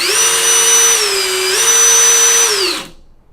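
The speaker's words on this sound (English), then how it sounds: "if I do something as simple as pull the trigger on my drill," A power drill's trigger is pulled and its motor gives a loud, high whine that dips briefly, rises again and then cuts off abruptly after about three seconds.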